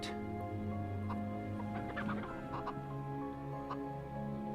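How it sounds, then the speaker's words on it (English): Chickens in the video game MediEvil cluck in quick, overlapping bursts while they eat, a busy close flock clucking without a break over a low steady background hum. "You just gotta let those chickens eat."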